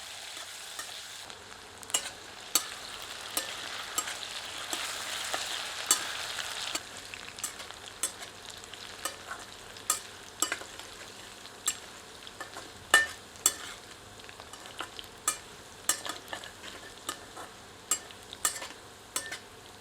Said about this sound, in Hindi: आंच मध्यम करके आलूओं को 3 से 4 मिनट भूनते हैं।